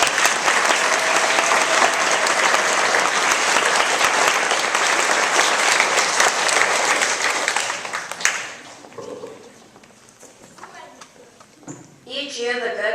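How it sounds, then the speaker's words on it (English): Outdoor crowd at a school May Day celebration gives a long, loud round of applause that fades out after about eight seconds, followed by quieter ambience and a voice starting to speak near the end. "So a great big round of applause for them."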